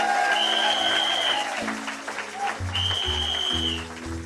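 A church congregation applauds and cheers for Jesus during a service presenting children, steady clapping rising and falling over roughly four seconds with voices and sustained tones layered on top.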